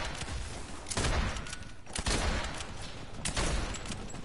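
Fortnite gunfire in a rapid string of sharp shots, several louder cracks spaced through the stretch over a steady background, no talking over it.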